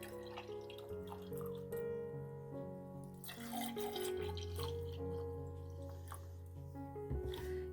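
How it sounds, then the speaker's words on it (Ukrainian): Sterilized 2.5% milk is poured over frozen coffee ice cubes in a glass, making a faint, steady liquid trickle with soft drips, close by and quiet. "Тепер заливаємо своїм улюбленим молоком."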